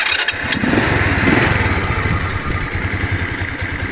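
A SPARK 1254WQ 125 cc semi-automatic moped engine runs steadily nearby with a loud, even mechanical chugging and slight rhythmic pulsing throughout, no voices over it.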